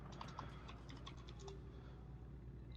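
Soft, quiet keystrokes tapping on a computer keyboard, a quick irregular run of presses that trails off into low background hum, with no talking.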